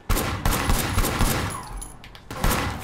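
Dense, sustained gunfire from the open-world action game Sleeping Dogs: a loud volley of overlapping shots that eases briefly, then a fresh burst near the end, with no voices over it.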